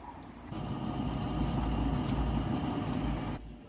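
A washing machine motor spins during the drain cycle on a machine that had stopped turning and was just repaired with a new water level sensor, a steady close hum that starts abruptly, holds for about three seconds and then cuts off.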